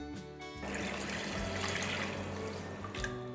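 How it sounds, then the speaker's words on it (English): Water pours steadily into a pot of rasam, a continuous gushing splash close by that holds for a few seconds with a faint hum underneath. "Time to add 4 cups of water."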